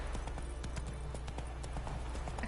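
Hooves of Roach, a horse in The Witcher video game, clip-clopping in a quick steady rhythm, faint and continuous with no talk over it.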